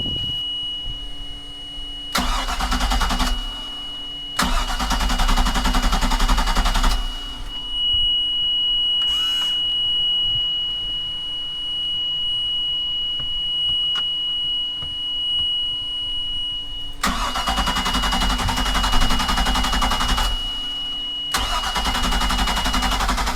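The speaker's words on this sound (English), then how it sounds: "I guess I'm gonna start this engine." A boat engine cranks and roars to life in several bursts, dropping to a quieter idle between attempts, with a faint electronic beep in the gaps.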